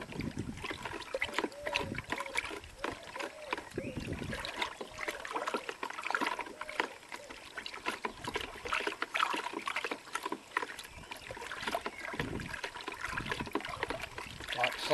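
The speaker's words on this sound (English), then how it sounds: "And then you mix that vigorously till the salt is dispersed." Salt being vigorously mixed into vinegar until dissolved, heard as a steady close sloshing and trickling of liquid throughout, with people talking intermittently over it.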